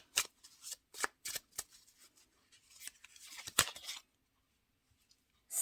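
Tarot cards are shuffled close by in quick, crisp bursts of flicking and sliding, with short pauses between riffles and quiet gaps near the end.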